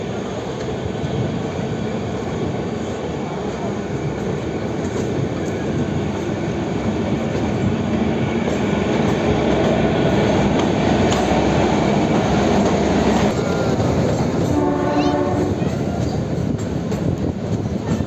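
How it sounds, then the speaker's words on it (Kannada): The Kalka–Shimla narrow-gauge toy train rumbles and clatters steadily nearby as it nears Shimla station, with a brief horn-like tone sounding near the end. "ಸಮಾರಿಲ್ ಬಿಟ್ಟಿದೆ ಟ್ರೈನು. Next last stop."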